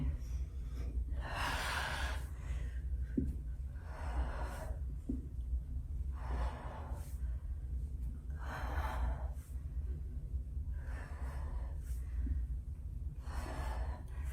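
Rhythmic breathing during a flexibility exercise for the back, with breaths arriving in regular bursts about every two seconds over a steady low background hum, close and moderately loud.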